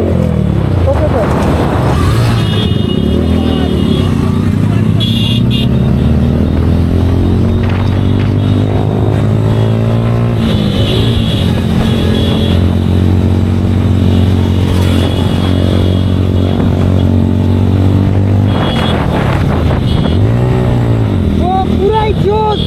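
Motorcycles ridden in a group with friends give a continuous close engine drone mixed with wind rush, with revs rising and falling throughout and voices talking over it.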